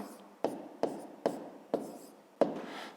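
Pen or marker strokes writing a fifth-grade arithmetic solution by hand, five short scratchy taps spaced about half a second apart, close and fairly quiet with no talk.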